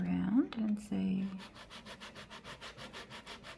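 Resin cast home decor pieces in eco casting medium are sanded by hand: a brief muffled sound at the start, then a close, steady run of rhythmic scratchy strokes at a quick, even pace.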